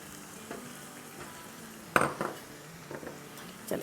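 Chicken and spices fry in hot oil while a utensil stirs them, with soft sizzling and a few clinks and scrapes of metal against the pan, fairly close and with no talking.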